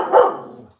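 A single dog bark, loud and close, fading quickly into a short tail and then silence.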